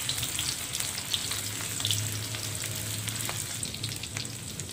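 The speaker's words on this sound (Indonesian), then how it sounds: "di sini sudah saya panaskan minyak, masukkan bawang merah dan bawang putih yang udah diiris-iris tadi" Sliced shallots and garlic fry in hot oil, a steady close crackling sizzle with a low simmering rumble underneath, continuous throughout with no talking.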